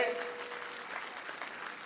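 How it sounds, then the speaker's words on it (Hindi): A crowd at a BJP membership campaign event claps loudly and continuously, a dense wash of applause with no pauses. "जोरदार ताली बजाओ"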